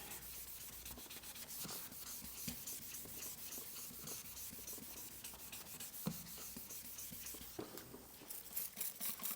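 Steady abrasive sanding on a minivan's plastic headlight lens, a continuous gritty rubbing with rhythmic strokes, close and fairly quiet, with no talking.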